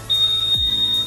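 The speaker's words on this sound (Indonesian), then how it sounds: "Bunyi buzzer 3 kali, artinya sensitivitasnya itu tinggi." A 2021 Honda Scoopy scooter's buzzer holds one steady, high electronic tone for about a second. A single brief thump falls in the middle, and there is no talking.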